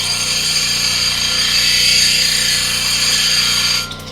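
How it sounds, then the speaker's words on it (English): A Highland Park SM1 shaping machine running an 80 grit wheel, smoothing down high spots on a workpiece with a loud, steady motorized whine and grinding hum that holds evenly before easing off near the end. "we're smoothing out all the high points with the 80 grit"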